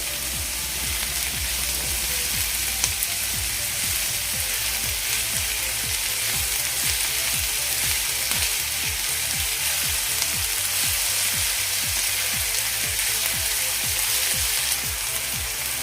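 An egg mixture for anda ghotala sautés in a hot pan with a steady, loud sizzle, while a spatula scrapes and stirs in a regular rhythm throughout.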